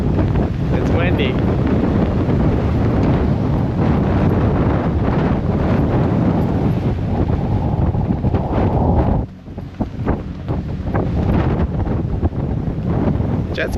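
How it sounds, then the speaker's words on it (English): Strong, steady wind buffets the microphone on the fly bridge of a 70 ft yacht running through choppy sea at night, a dense rumble that dips briefly before surging back, with faint speech underneath. "It's windy."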